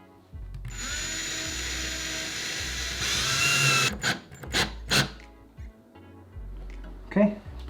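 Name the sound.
drill making pilot holes for thermostat back plate screws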